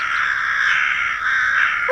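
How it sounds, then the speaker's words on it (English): Crows caw steadily for about two seconds, a loud, close, continuous stretch of harsh calling with no talk over it. "those are the calling birds"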